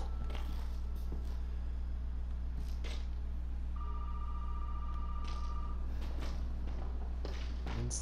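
A telephone in the video game Resident Evil 7 rings once as a single steady electronic tone, fairly faint over a low hum and scattered soft knocks, with no talk.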